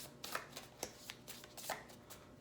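A deck of tarot cards is shuffled in a quiet room, giving a series of quick riffling bursts with short gaps between them, soft and close, with no talk.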